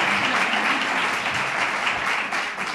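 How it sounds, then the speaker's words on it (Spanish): Sustained audience applause fills a hall at a Spanish political candidacy presentation for IU Ronda 2019, steady dense clapping from a crowd, loud and continuous throughout with no voices over it. "El aplauso es merecido."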